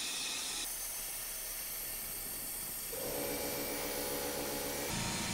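A cutting machine slices through 12mm steel plate while repairing a crawler tractor undercarriage, giving off a loud, steady hiss and roar that shifts to a harsher, deeper tone partway through.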